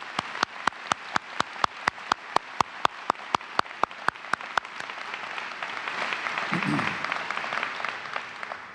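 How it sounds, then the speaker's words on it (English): Live audience applause at a university chancellor installation ceremony, opening with a few loud, evenly spaced sharp claps before spreading into a sustained, crowd-wide wash of clapping that swells and lingers. "Please join me in a round of applause for these distinguished guests"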